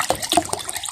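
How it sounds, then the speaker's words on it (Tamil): Water poured into a grinder jar while making rava dosa batter, a short splashing pour of under a second, close and clear with no talk over it. "இந்த அரைச்சி ஜொக்குக்குள்ளே தண்ணியை விட்டுட்டு இதுக்குள்ளே விடுவோம்"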